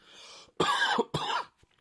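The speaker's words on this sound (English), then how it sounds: "Excuse me, I'm going to cough." Two rough, close coughs in quick succession with a throaty, clearing quality, preceded by a faint breathy sound.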